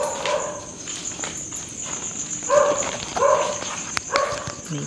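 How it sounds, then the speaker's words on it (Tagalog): A dog barks at a cemetery in Bulacan, with several yappy barks from middle distance in a loose rhythm, a few of them clustered toward the end, over a steady high insect-like whine outdoors. "May aso."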